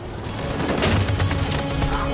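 Dense, rumbling gunfire and impacts during a battle sequence in the video game Detroit: Become Human, a continuous loud barrage with no clear gaps.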